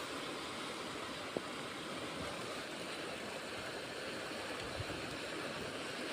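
Floodwater rushes through a village ditch in a steady, dense roar that fills the whole stretch, with a couple of faint knocks and no voices.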